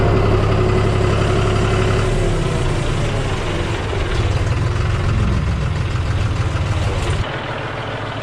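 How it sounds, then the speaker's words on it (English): A tractor engine idles steadily and close by in a steady low rumble with a constant mechanical drone, dropping slightly in level near the end. "Might as well just take the tractor and see if we can clean the driveway up a little bit."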